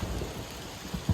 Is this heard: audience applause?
no